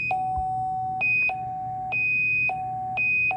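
Repeated beep tones at 2,500 hertz from a beep alarm prototype, sounding in four short evenly spaced pairs of higher and lower pitch, loud and clear over a faint background hum with no voices.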